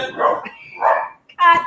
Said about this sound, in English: That's the dog. Get him out.